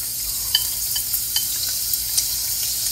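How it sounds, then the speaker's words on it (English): Vegetable oil sizzles steadily in a small frying pan during a quick flash fry, a close hiss with light scattered crackles and occasional soft stirring clicks. "we're gonna just kind of flash fry this really quickly"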